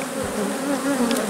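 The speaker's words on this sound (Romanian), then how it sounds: "albina s-a agitat din negru și de aceea trage albina la negru" Dense, steady buzzing of many honeybees close by at a hive in an apiary, a continuous droning hum with no voices.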